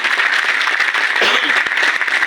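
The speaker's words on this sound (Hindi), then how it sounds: "तालियां बजा सकते हैं मलिक सर के लिए" Brief, dense audience applause for Malik sir at a Modicare business gathering, loud and steady throughout.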